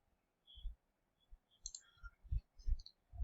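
Several quiet computer mouse clicks while selecting data from a local file in SAP HANA software, short separate taps spaced irregularly over a few seconds against near silence.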